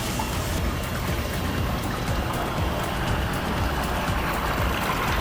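Water rushing out of openings at Rihand Dam, a tall dam near Pipari, India, making a steady loud roar of pouring, splashing flow that fills the whole stretch without letting up.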